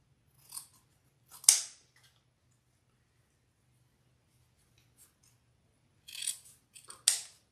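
Scissors snip through the tail of a chocolate Easter bunny piece in a few short, crisp cuts, close and quiet, separated by stretches of near silence.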